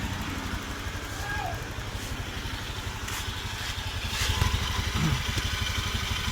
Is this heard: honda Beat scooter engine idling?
yes